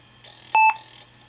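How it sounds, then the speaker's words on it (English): A Toshiba 420CDT laptop gives a single short, clear electronic startup beep at boot, loud and tonal over a faint steady hum. "You get a beep, starting MS-DOS, testing extended memory."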